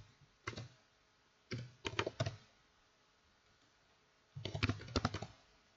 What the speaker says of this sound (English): you would need to type in all the information for the contact